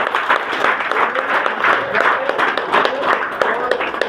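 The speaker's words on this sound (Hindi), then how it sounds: "तो सर के लिए एक जोरदार ताली होनी चाहिए" A gathered audience at a talk gives loud applause for the speaker, a dense, energetic round of clapping with sharp individual claps standing out and some crowd voices underneath.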